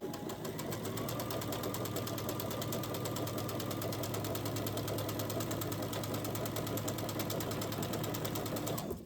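A sewing machine stitches a quarter-inch seam on hourglass quilt blocks, a long, even, rapid mechanical chatter with a steady hum underneath, close and uninterrupted and with no talk.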